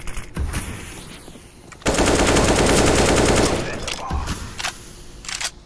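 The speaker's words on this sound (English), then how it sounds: "you shot your AK to me" Rapid AK rifle fire in a first-person shooter video game, a loud sustained automatic burst in the middle with scattered shots before and after and faint voices around it.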